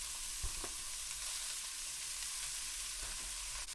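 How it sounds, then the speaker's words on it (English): Food sizzles and crackles steadily in a frying pan, a close, continuous hiss with a few soft pops and stirring knocks throughout. "That's just me frying some food."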